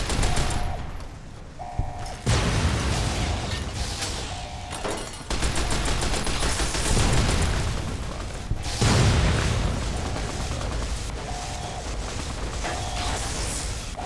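Sustained machine gun fire and battle noise in a video game, loud and continuous over several seconds with bursts and mechanical clatter, a repeating electronic tone underneath, and no talk.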